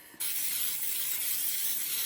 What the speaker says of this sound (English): I'm just going to use this Pam spray. Spray it up so it don't stick